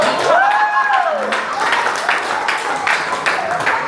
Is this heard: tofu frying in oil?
no